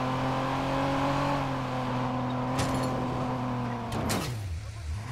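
Car driving fast in a chase: a steady, loud engine hum with rising and falling tones, ending in a sharp whoosh as the car sweeps past close by, with voices heard briefly.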